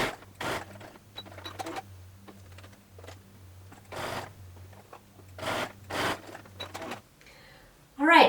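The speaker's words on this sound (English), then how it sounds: "So we're going to stitch across there." A sewing machine stitches fabric in short, quiet bursts separated by pauses, with a faint steady hum underneath and a louder rustle at the very end.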